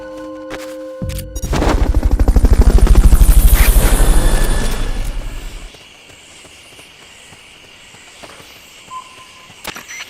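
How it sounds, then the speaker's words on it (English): In Metal Gear Solid Peace Walker, a Fulton Recovery helicopter swells in, its loud rhythmic rotor chopping peaking over a few seconds before dropping away, leaving quieter game ambience with a few sharp clicks. "Fulton Recovery helicopter is complete"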